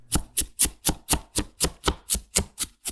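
A video game sound effect of potato peeling: a rapid series of about twelve crisp, evenly spaced scraping chops, close and loud, with no voices.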